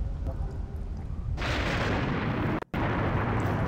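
A cannon in the Serious Sam 3 BFE video game fires with a sudden loud, broadband blast that rolls into a sustained roaring rumble, cut briefly by a short gap before the heavy noise resumes.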